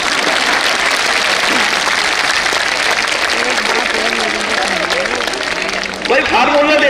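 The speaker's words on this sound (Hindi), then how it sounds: "बजा दो ताली।" A crowd claps continuously while a voice speaks loudly over the applause.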